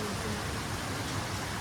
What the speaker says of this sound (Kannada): ಎಷ್ಟು ಮಳೆ ಬರ್ತೈತೆ ಕಾಣಿಸ್ತೈತೆ ಸ್ವಲ್ಪ ಲೈಟಾಗಿ